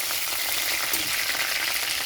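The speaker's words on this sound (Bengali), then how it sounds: "কড়াইতে আদা আর রসুন দিয়েছি তেলের মধ্যে" Ginger and garlic frying in oil in a wok give a steady, close hiss of sizzling that runs evenly throughout, with no voices.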